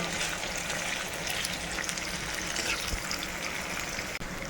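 Gooseberry pickle sautés in a pan, a continuous even crackling sizzle with faint stirring, steady and close, no talk.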